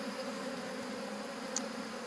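A steady, soft buzz of bees working buttercup flowers outdoors hums continuously in the background, with no voices.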